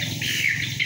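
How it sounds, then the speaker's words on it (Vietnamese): Birds call in the trees at an eco-tourism park in Can Tho, Vietnam, giving short bright chirps over a busy background of outdoor noise. "Nghe chim kêu chưa?"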